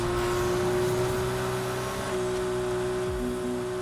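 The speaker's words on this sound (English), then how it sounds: "he's doing some nighttime drifting" A car engine drones steadily in Need for Speed Heat during night drifting, a constant loud motor hum with sustained tonal whine and slight pitch shifts, no talking over it.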